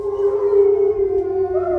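Wolves at a Texas wolf sanctuary howling, a loud sustained, wavering howl with a faint second voice layered in, continuous and close, with no talking.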